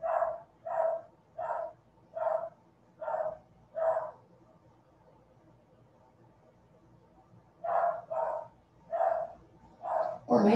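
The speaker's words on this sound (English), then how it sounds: "Or my dog's barking." A dog barks in two clear bursts of sharp, evenly spaced barks, six at first and then about five more after a quiet pause. It sounds moderately close and stands alone with no talking over it.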